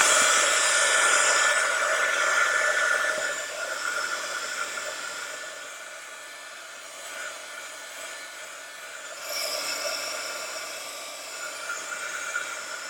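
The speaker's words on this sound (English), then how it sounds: "I'm going to heat dry this just because I don't want to stick my hand in it" A heat gun or hair dryer blows steadily over a mixed media artwork, a loud broadband whoosh for about thirteen seconds that eases slightly midway and then swells again.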